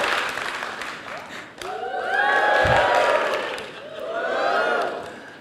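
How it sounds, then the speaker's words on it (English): A crowd at the Stockholm Tech Fest cheers and whoops, loud shouts and voices rising in swells over a bed of applause, with a sharp clap-like hit in the middle. "It's a really great crowd here, as you can tell."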